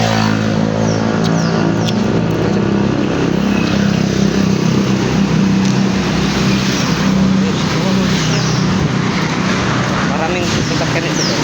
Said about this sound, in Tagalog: Maraming sasakyan ito guys.